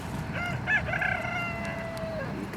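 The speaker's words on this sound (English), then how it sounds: "Hear my rooster in the back." A rooster crows once, a long drawn-out call holding steady before trailing off, moderately close over a faint background hum.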